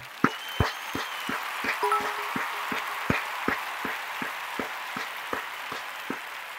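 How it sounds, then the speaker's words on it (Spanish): Sparse, rhythmic claps ring out one at a time at a steady pace over a quiet room hum during a live stream from Cádiz, like a single person clapping slowly. "Un aplauso enorme."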